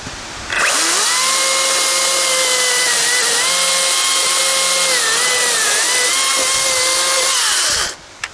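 A Makita XCU04 36V (18V x2) LXT brushless 16-inch chainsaw cuts through wood with a loud, steady electric whine that dips slightly in pitch as it bites, running about seven seconds alone before cutting off.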